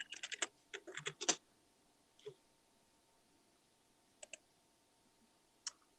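Typing on a computer keyboard, a quick burst of close clicking keystrokes followed by a few scattered single taps with quiet gaps between.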